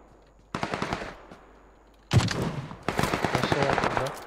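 Bursts of automatic gunfire in the battle royale game PUBG Lite, with a short volley, a sharp loud shot, then sustained rapid fire close to the listener, no talk over it.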